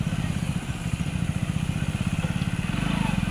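A motorbike is ridden right inside, close by, its engine giving a fast, steady pulsing putter that grows slightly louder toward the end.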